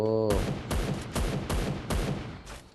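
Rapid gunfire in the shooting game Free Fire, a run of about six sharp, loud shots in quick succession, close and dense, with a brief tone before the volley begins.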